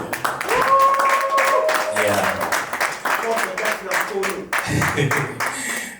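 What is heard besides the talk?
applause at a civil wedding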